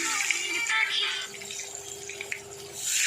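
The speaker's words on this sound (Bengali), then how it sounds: "দেখো কড়াইতে তেল দিয়েছি এবার আস্তে আস্তে আগে থেকে কেটে রাখা বেগুনগুলো সব দিয়ে দিলাম" Sliced eggplant fries in hot oil in a kadai, giving a soft, steady hiss and light crackle that swells a little at the start and end of this short stretch.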